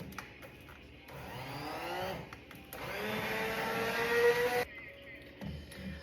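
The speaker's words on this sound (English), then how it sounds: "But let's blend her out just a minute." A blender whirs through hot broccoli, carrot and cheese soup in quiet, uneven bursts, its motor swelling and easing over a few seconds before stopping.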